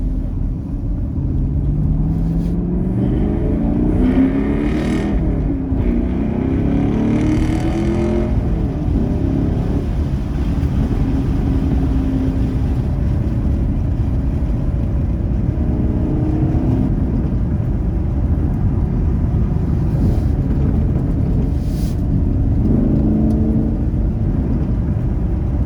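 A 2022 Camaro SS 1LE rolls through a parade lap at Daytona raceway, its engine giving a steady, loud, unbroken drone heard from inside the car for the whole stretch.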